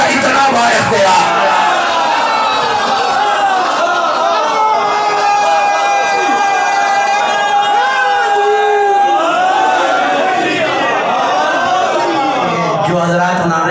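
A congregation at a Shia majlis chants religious slogans in loud unison, with many voices rising and falling together in sustained, close calls that fill the whole passage.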